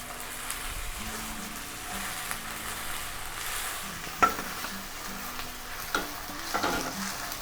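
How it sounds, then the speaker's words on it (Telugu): Tomatoes frying with onions and ginger in a pan, a soft continuous sizzle with occasional stirring clinks and scrapes, close by with no talk. "ఇప్పుడు మనము టమాటాలు వేసుకుందాం."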